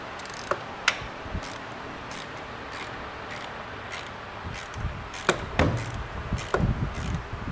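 Faint clicks of a ratchet snugging a bolt on a Suzuki GSXR 1000 transmission during installation, a few sparse ticks early, then a denser run of clicking and metallic clunks toward the end in a quiet workshop.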